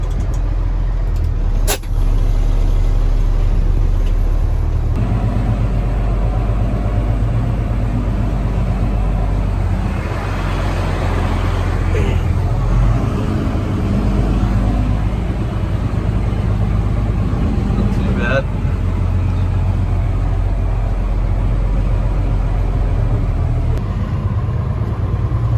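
An old Essalon farm truck engine runs at a steady idle, a loud, close, continuous low rumble that holds without revving changes, with a few faint clicks and knocks over it.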